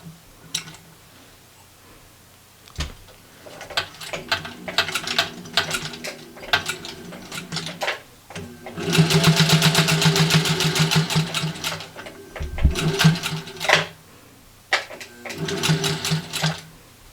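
A home sewing machine stitching a glove made from T-shirt fabric, running in short starts and stops and then a longer steady burst of rapid mechanical ticking and whirring, close and clear with no talking.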